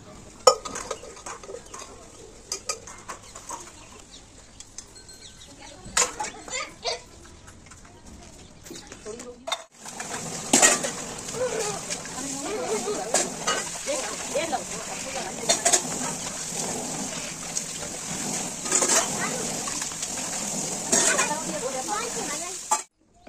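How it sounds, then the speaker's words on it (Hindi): Pots and utensils are washed by hand with water during a morning routine in an Indian village, giving clinks, scrapes and splashes that grow busier and louder in the second half, with a voice talking over the work. "तो थोड़े से बस बर्तन ही ये साफ कर देते हैं"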